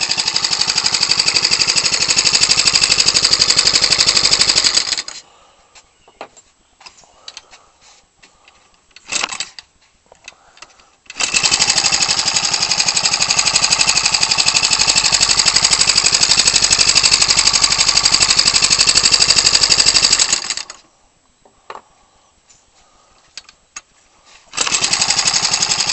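Ryobi 29cc four-stroke R/C aircraft engine with a trimmed carburetor manifold, running loud and steady in two long bursts separated by quieter gaps, close to the listener with no talk.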